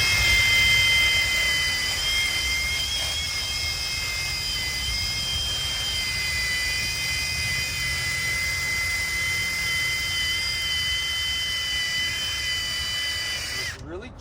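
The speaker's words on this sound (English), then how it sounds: "I also like to clean up where the caliper mounts to using this spinny wheel." A rotary wheel tool spins against a car's brake caliper mounting surface, a loud steady high-pitched whine with a grinding hiss, continuous for about fourteen seconds before cutting off.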